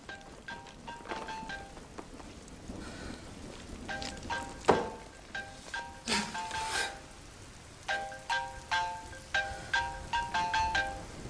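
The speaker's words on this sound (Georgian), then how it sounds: "ტელეფონი." A telephone ringtone plays in quick repeated bursts of bright tones, pausing between groups. A soft, rain-like patter and a few sharp knocks sit underneath at moderate, fairly distant loudness.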